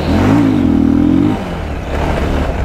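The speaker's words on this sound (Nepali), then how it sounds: "मेरो बाइक अलि बुढो भएको छ भन्दा नि इन्जिन बुढो भएको छ" An old, aging motorbike engine revs steadily up close for about a second, a rising droning whine, then drops back to a rough idle with no talk.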